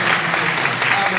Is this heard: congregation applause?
yes